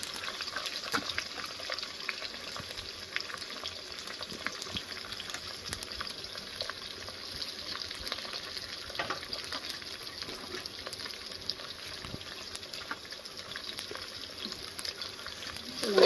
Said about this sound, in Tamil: இப்போ இந்த வெங்காயம் வந்து நல்லா வதங்கட்டும்